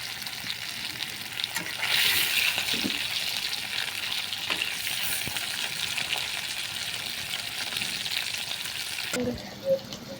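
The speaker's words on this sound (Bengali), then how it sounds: "দিয়ে অকণমান ভাজি কৰি ল'ম" Food frying in a pan with a steady, close sizzle and occasional stirring clatter, growing louder about two seconds in, then easing near the end with a few brief clinks; no talking.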